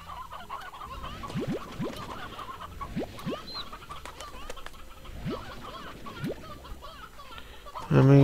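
Chickens cluck in the Slime Rancher video game, with repeated short clucks at moderate level against a soft background and a louder burst at the very end.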